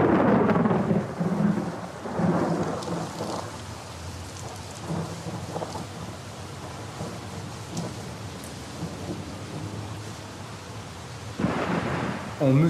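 Thunder from a lightning strike rumbles through steady rain, with a loud opening peal, rolling rumbles fading through the middle and another burst near the end.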